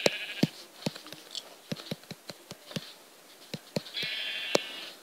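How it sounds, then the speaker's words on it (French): Sheep bleating in the Minecraft video game, with a couple of nasal game bleats over a steady run of clicks, footsteps and buzzing game effects, plus one longer drawn-out bleat near the end. "Oh oui, un mouton."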